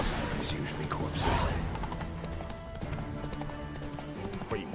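Horse hooves clip-clopping in The Witcher 3: Wild Hunt, a steady near trot of hoofbeats over game ambience while a person talks across part of it.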